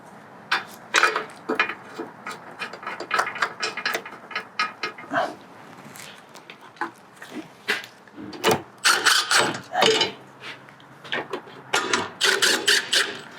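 Ratchet tightening 18mm transmission bolts on a 2009-2013 Audi A4 B8 with a CVT, a close series of sharp metallic clicks in irregular bursts, some quick and rattling, with short pauses between runs and no talk.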